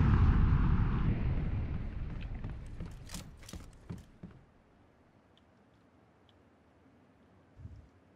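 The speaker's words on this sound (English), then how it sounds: "Gunshots" Gunfire in the online shooter Battlegrounds: a loud, rumbling blast that fades out, then a quick cluster of sharp cracks. A lone faint shot follows after a quiet stretch.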